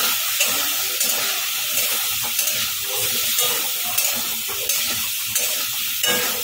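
Potatoes and drumstick pieces fried and stirred in a pan for a mustard-based dish. A continuous sizzle runs throughout, broken by regular scraping strokes of a spoon about every second. No one speaks.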